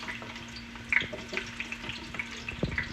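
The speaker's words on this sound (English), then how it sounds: "then you can put the onions in and start cooking the onions down" Onions added to a pan of golden garlic fry with a soft crackling sizzle and a few light clinks and stirs, close and moderately quiet, with no talking.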